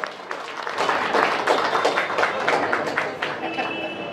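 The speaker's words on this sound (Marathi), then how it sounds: "जोरदार टाळ्या होऊ द्या." An audience claps through a stage program of Bhim and Buddha songs, a steady, dense patter of many hands sustained for several seconds at moderate loudness, with no voices over it.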